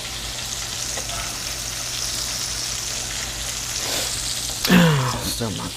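Corn frying in a deep cast iron pan, a steady hiss of sizzling oil with brief stirring scrapes near the end, close and fairly loud, with no talking.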